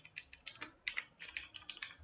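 Keys tapped on a computer keyboard while a mobile number is entered for an SBI AEPS login, a quick run of close, crisp clicks in uneven bursts with no talk.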